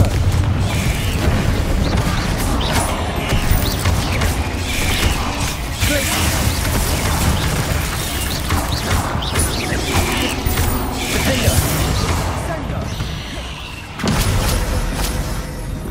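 Confringo fire spell blasts in the Hogwarts Legacy video game, dense booming impacts and crackling mechanical rumbles layered over a continuous loud game soundscape.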